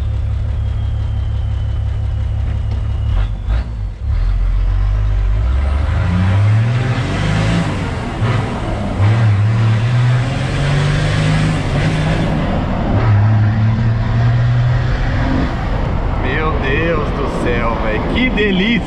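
A Chevrolet Silverado pickup with high-flow injectors and a tuned turbo accelerates hard, its engine note climbing and dropping repeatedly as it shifts up through the gears, loud and close from inside the cab while people talk over it.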